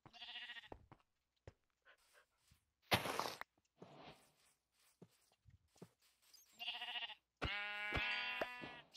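Sheep in the Minecraft video game bleat several times in short, nasal, wavering calls spread across the stretch, separated by silences, soft thuds and a burst of noise, with a final louder bleat at the end.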